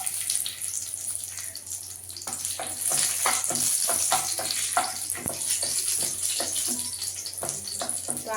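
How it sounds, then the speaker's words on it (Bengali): Cashews frying in oil left over from frying onions, a continuous close sizzle with crackling bursts that grows louder and busier partway through, with no one talking. "ওই তেলটাতে আমি কটা কাজু ভেজে নিব।"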